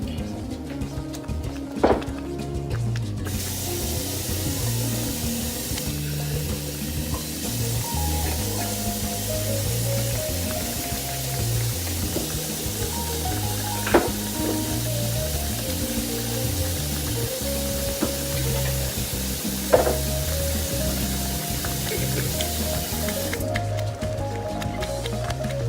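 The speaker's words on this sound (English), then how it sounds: "I'm gonna turn that down since it started boiling" A pot of water for lasagna boils on a kitchen stove, giving a steady bubbling hiss throughout with a few sharp clicks and knocks from handling the cookware nearby.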